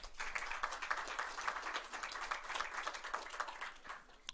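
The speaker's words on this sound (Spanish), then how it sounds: "Un aplauso, por favor." Steady applause from the audience at a 2018 electoral oversight forum panel in Coahuila fills the room as dense, continuous clapping that stays fairly quiet and even throughout.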